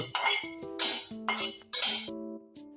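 Sesame seeds are dry-roasting in a metal pan (kadai) while being stirred. Four sharp metallic scrapes and clinks ring out at regular intervals, each leaving a short ringing tone that fades into quiet.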